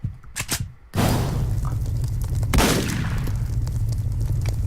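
Video game gunfire in Deadbolt, a dense sustained burst of shots that swells near the middle and keeps going to the end, following a few quieter thumps at the start.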